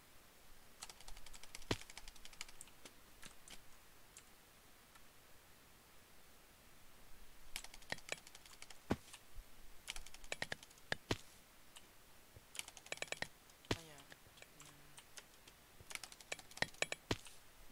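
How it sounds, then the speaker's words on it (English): Computer keyboard keys pressed during Minecraft godbridging: bursts of rapid, crisp clicks in quick rhythmic runs separated by quiet gaps, fairly faint and close, with no talking. "it starts as soon as I hit the keys"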